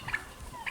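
Turkeys on a small homestead, kept alongside chickens, give a couple of faint, quick gobbles heard from a distance in a quiet outdoor setting.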